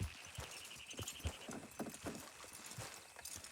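Horse hooves clip-clop in the game Red Dead Redemption 2, a quiet, irregular patter of hoof strikes under faint background sound.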